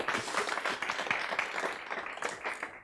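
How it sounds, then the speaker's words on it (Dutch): An audience at a philosophy lecture gives warm applause, dense steady clapping from a sizeable crowd filling the room for the full stretch. "Ik zou zeggen, een warm applaus voor Jan."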